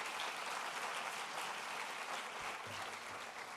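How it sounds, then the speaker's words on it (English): A live-streamed event audience gives a round of applause, a faint, even wash of many hands clapping heard from a distance, with a low thump near the end. "Big round of applause for Hans."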